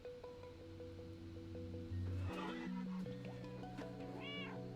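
A cat meows in the video game Stray, a short faint cry near the end over a quiet bed of sustained electronic tones and soft ambience, with no talking.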